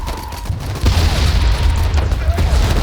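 Artillery shell fired in a World War I strategy video game, a heavy booming blast with a rumbling low roar that lingers over dense battlefield noise, loud and close.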